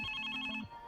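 A telephone rings from a played recording, one short electronic trill burst heard close and clear before cutting off, with no talking over it.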